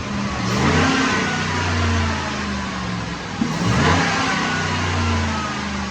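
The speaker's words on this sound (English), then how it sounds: "We're going to watch that dyno pull" Supercharged 2010 Ford Sport Trac Adrenalin with an Edelbrock supercharger on a dyno, two loud revving engine pulls, each climbing and then dropping back, heard up close with no talking.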